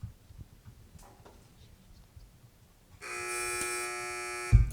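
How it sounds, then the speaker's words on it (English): A quiz game buzzer at a high school quiz match sounds once as a loud, steady electronic tone lasting about one and a half seconds, following quieter room noise. "Teams wait for the buzzer."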